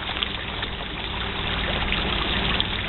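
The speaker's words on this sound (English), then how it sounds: "This is a very unique and old water fountain." Water trickles steadily from an old, ornate water fountain in Bar Harbor, Maine, a continuous broadband splashing wash at moderate level with no voices.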